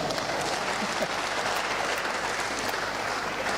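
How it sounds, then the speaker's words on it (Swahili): A crowd at a Kenyan political gathering gives dense, steady applause that holds at an even, loud level throughout, with no speech over it. "Tumpigie makofi."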